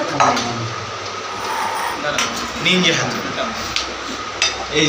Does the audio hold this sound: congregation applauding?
no